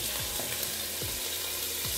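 Beef steaks for homemade hamburgers fry in a pan with a steady, close sizzle and crackle. A few soft scrapes and shifts sound now and then throughout.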